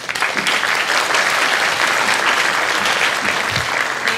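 Audience at a middle school winter concert applauding the student musicians, a dense, steady wash of many hands clapping at close range that holds evenly for about four seconds with no voices over it.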